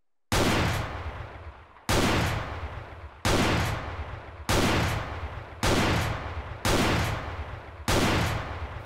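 5.7 gun fired through steel in the game ArmA 3, seven evenly spaced loud gunshots, each with a sharp crack and a long echoing tail, with nobody talking.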